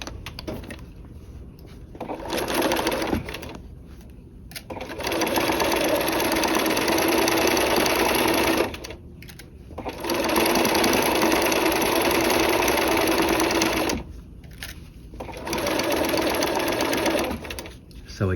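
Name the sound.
sewing machine sewing a seam on a flap pocket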